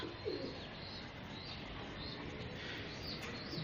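Pigeons, including Angora pigeons, cooing faintly at their loft among other birds, soft repeated coos over a continuous hiss of background noise with light chirps.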